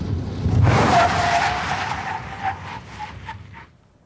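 A 2005 Honda Accord brakes hard on ABS-equipped tires during a braking test, letting out a loud, sustained tire screech that holds for about three seconds, pulses briefly and then dies away.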